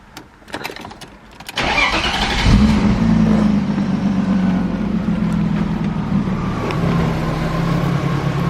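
A rebuilt BMW E36 M3 engine cranks with a few clicks, then fires and settles into a steady, smooth idle, loud and close with no other sounds.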